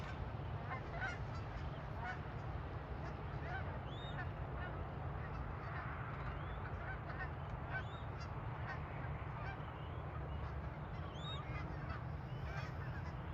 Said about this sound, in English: There's some ducks crossing